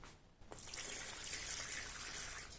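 Yeast water is poured from a container into a bowl to make dough for pan-cooked bazlama flatbread: a brief knock, then a quiet, steady splashing trickle that continues alone.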